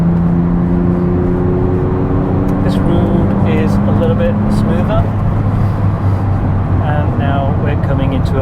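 Porsche 996 engine rising in pitch after a downshift, with a steady droning rev heard from inside the car and someone talking over it.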